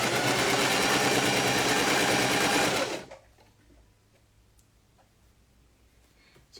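A domestic sewing machine stitches fabric with a loud, fast, steady whirring clatter for about three seconds, then stops abruptly, leaving a quiet room with faint handling noises.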